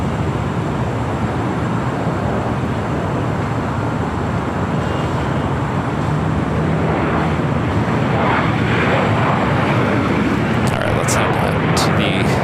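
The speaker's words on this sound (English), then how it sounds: "Delta A330 Neo coming up from Paris" A Delta Airbus A330neo arriving from Paris at LAX gives a constant, loud engine roar that swells slightly toward the end, with no voices over it.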